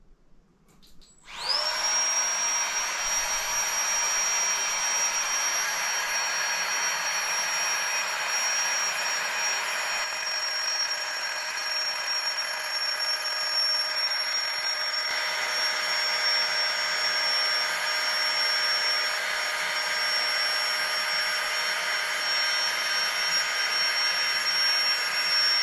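A Flextail Tiny Pump 2 electric air pump starts abruptly and runs steadily for a long stretch, a loud, even high-pitched whine and airy roar with a constant tone, alone without talk.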